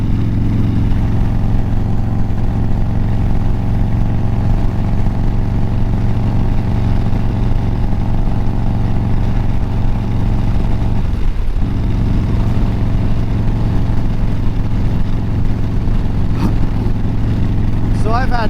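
Harley-Davidson Dyna motorcycle engine running steadily with a loud, continuous low rumble throughout, holding a constant pitch with a brief dip midway, recorded up close outdoors in cold weather.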